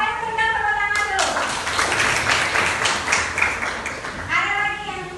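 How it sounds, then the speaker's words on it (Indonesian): Classroom applause during a teacher's lesson, steady clapping from the whole class lasting several seconds with children's voices talking over it at the start and end. "Ayo berikan tepuk tangan dulu."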